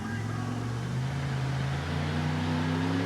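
A monster truck's supercharged engine holds a steady, heavy drone with a low harmonic hum as it drags a weighted sled down the pull track at a 1988 USHRA event in Kansas City, loud and continuous throughout.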